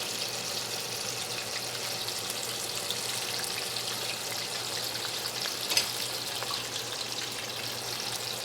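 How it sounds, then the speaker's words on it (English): Onion rings fry in hot oil, giving a soft, even sizzle and crackle that runs throughout, with one brief sharp pop near the end and no speech. "Is it the sound of frying onion rings"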